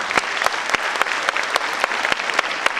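Loud, sustained applause from an audience at a 2012 gathering, with sharp individual claps standing out above the dense roar of many hands.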